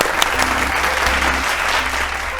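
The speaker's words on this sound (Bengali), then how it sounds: "হাততালি।" A studio audience at a Bengali television quiz show breaks into steady, sustained applause, many hands clapping at once for a correct answer, loud and continuous for a couple of seconds with no talking over it.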